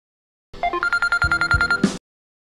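A telephone bell rings in a quick repeated burst of about a dozen even pulses, loud and close, cutting off abruptly.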